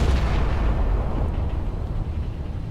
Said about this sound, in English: Turret A, turret B, and let's also fire turret C as soon as it's ready.